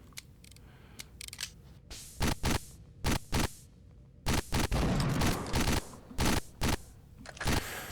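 Rapid sharp bangs from a revolver in a video game come in irregular bursts of close, loud cracks with brief gaps, with no voices over them.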